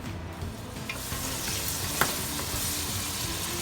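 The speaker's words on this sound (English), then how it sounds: "we're going to saute these onions" Onions sauté in a hot pan, giving a steady close sizzle with occasional stirring scrapes and small pops.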